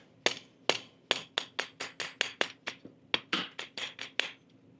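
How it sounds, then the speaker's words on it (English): A quick series of sharp metallic hammer taps driving a plug into a dual-action fuel pump on a Scout, about fifteen strikes in an uneven rhythm with a short pause midway, close and clear. "So I'm just going to tap that in with a hammer."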